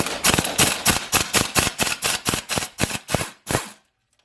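An impact gun fitted with an extension hammers at transfer case bolts in about a dozen sharp, evenly spaced bursts, the last one after a short pause before quiet.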